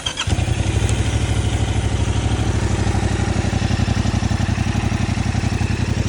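A 2023 Yamaha MT-07 with its stock exhaust, showing about 40 miles, catches and settles into a loud, steady idle. Its low, even pulsing throb continues close by with no talk over it.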